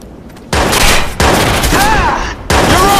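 Loud gunfire from the Watch Dogs video game comes in heavy rapid bursts of shots, with short gaps between volleys and ringing whistles and ricochets layered on top, close and dominant.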